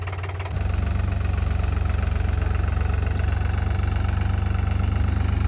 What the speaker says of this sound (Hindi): रॉकी भाई फुल जोश में ट्रैक्टर को चला रहे हैं।